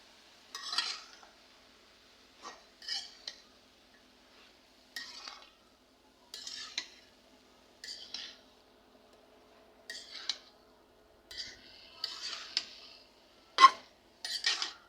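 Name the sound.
cooking eggplant with prawns, utensils stirring in pan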